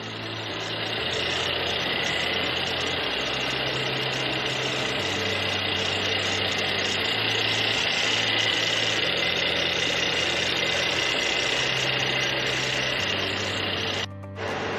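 A 2018 Mercedes-Benz E400 4MATIC engine idles steadily with a low, continuous rumble and faint rhythmic pulsing throughout, with no voices, ending in a brief dip.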